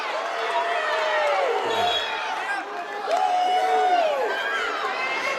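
Spectators at a girls' regional championship basketball game yell and shout continuously in a large gym, a loud, steady wash of crowd noise under a commentator's voice.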